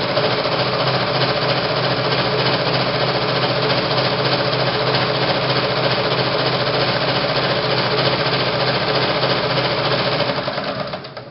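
Sewing machine top stitching close along a fabric edge, a steady fast mechanical whirr running continuously and close, easing off at the end as the stitching slows.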